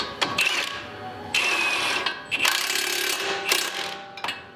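A nut is spun onto a lower control arm bolt on a 2005-2014 Ford Mustang GT, with repeated bursts of rapid metallic ratcheting separated by short pauses, close and fairly loud.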